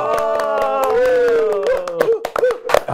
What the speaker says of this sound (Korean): 이제 관중들까지 박수를 쳐주셨다